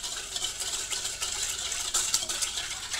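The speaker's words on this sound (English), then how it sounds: "Then I'm gonna mix this all up." Vegan Nutella cupcake batter with hazelnut flavor being mixed in a bowl, a soft steady scraping and rattling of a utensil stirring continuously at close range.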